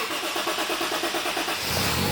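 Nissan S14 Kouki engine cranking with a rhythmic, pulsing starter churn for about a second and a half, then catching into a steadier running roar; close and fairly loud.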